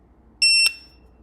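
A single bright electronic warning beep from an EMAX Tinyhawk 2 FPV racing drone's radio controller, short and clean with a sharp cutoff, standing alone against a quiet background.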